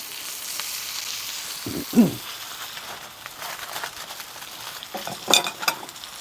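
Onions sizzle in burnt oil and butter on a coal shovel over an open heat source, a steady crackling fry broken by a couple of louder bursts of spitting and stirring.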